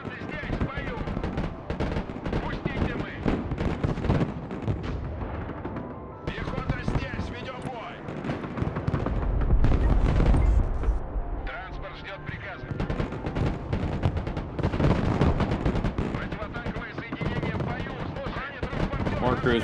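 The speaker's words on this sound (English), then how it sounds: "More cruise missiles." Cruise missile strikes in the military strategy game Broken Arrow, dense rumbling explosions and rapid crackling blasts rolling continuously, loud and busy with a heavy boom midway.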